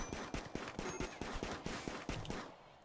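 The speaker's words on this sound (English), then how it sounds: "that is a fast fire rate on that auto pistol" An auto pistol fires in the Rimworld video game, a rapid run of short gunshot pops over a dense game soundscape that fades out at the end.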